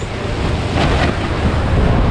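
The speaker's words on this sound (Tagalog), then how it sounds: "nalakas na ang alon" Ocean waves surge loudly during a boat tour, with strong wind buffeting the microphone, a constant rough roar.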